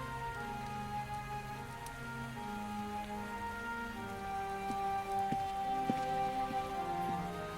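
Steady rain falls in the adventure game Chronicles of Mystery: The Scorpio Ritual, a soft, even patter heard faintly and alone beneath sustained tonal music.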